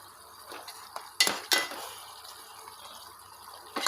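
Fish pieces for an Andhra-style fish curry are turned in a pan, giving a few soft scraping clinks of a utensil against metal over a quiet sizzle.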